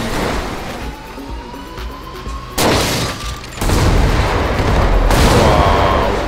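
A helicopter blows up near a military base in the video game GTA 5, with several heavy booming blasts and a rumbling, noisy roar between them, loud and close.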